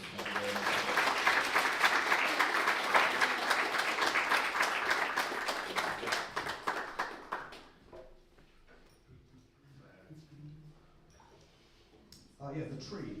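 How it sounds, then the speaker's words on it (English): An audience applauds after a talk at a game-development event: sustained, fairly loud clapping for about seven seconds that thins out and fades, followed by a quiet stretch and then a speaker's voice. "Quick round of applause, because that was awesome."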